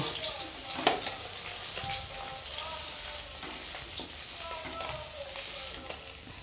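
Baul sea fish from Digha sizzling in hot oil, a steady frying hiss with occasional pops and spatters at moderate level, with faint voice-like sounds in the background.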